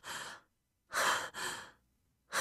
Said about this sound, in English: My heavy breathing comes out, rough and painful.